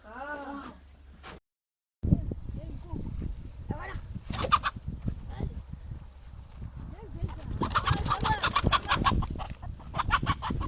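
Chickens cluck and squawk in scattered bursts close by, growing busier toward the end, while people talk over them outdoors.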